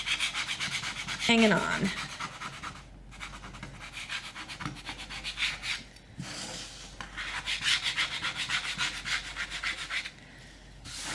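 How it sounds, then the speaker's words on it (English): A small hand scraper rasps paint off a painted wooden sign being aged for a vintage look, in repeated rubbing strokes that run steadily and fairly loud, with a brief voice near the start. "take the little scraper and scrape anything off that is"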